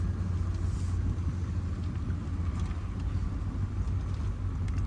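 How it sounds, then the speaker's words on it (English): A truck engine rumbles steadily nearby at a Florida marina community, a constant low drone with no talking over it. "What's that truck doing back there?"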